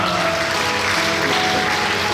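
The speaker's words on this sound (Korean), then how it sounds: "네 여러분 큰 박수 부탁드리겠습니다" Guests at a Korean wedding hall clap steadily for the candle-lighting ceremony by the parents. The applause is dense and continuous, a loud, even wash throughout.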